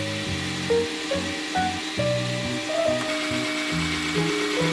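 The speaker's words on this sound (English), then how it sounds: "And now it's time to drill the first hole." A power drill bores a hole into an indoor wall, its motor pulsing and shifting pitch in short surges as the bit cuts in, loud and close throughout.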